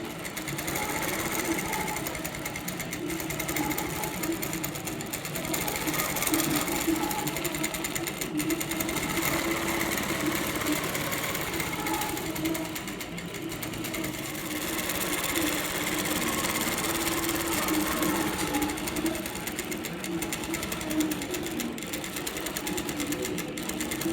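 A steady, continuous mechanical whir and stitching hum runs for the full span from an Innova Mach 3 longarm quilting machine sewing a pattern on autopilot, even in loudness with no talking.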